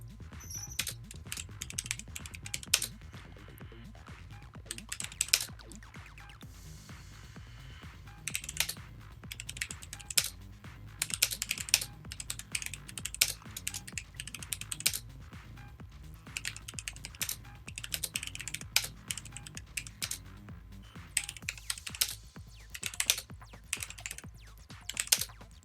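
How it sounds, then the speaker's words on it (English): Steady typing on a computer keyboard, dense irregular clatter of key presses in quick bursts with brief pauses, close by and fairly quiet against a low background hum. "I'm still in shock that I'm still typing things out"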